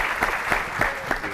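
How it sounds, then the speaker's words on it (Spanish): Audience applause at a working breakfast event, brief dense clapping with a few sharper claps standing out in a loose rhythm. "les pido un aplauso y ya empezamos con las exposiciones"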